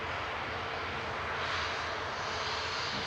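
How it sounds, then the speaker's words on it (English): A Lufthansa A319 taxiing out at Manchester Airport gives off a low, steady engine drone with a soft hissing whine, faint and distant, with no talk. "I can see a Lufthansa A319 taxiing out"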